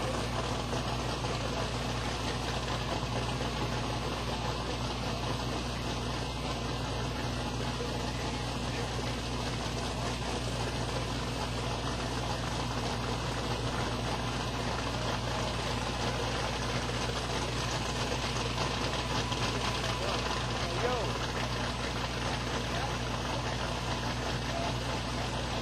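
Pro Mod drag car with a twin-turbo 622 cubic inch engine at Silver Dollar Raceway, a steady loud droning idle with a dense low hum held unchanged for the whole stretch, no talking.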